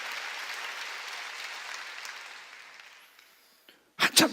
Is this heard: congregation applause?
yes